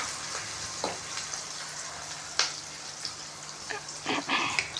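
Four or five chilies sautéing in oil for kathirikai puli kulambu: a steady sizzle punctuated by several scraping stirs of a spoon in the pan, close and fairly loud.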